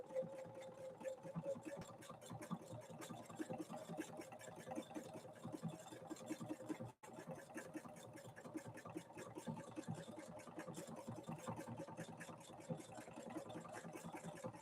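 A Husqvarna Viking 690Q sewing machine stitches a complex decorative pattern at a kept-down speed, giving a steady, close, rhythmic whirring and needle clatter that runs continuously with one brief break.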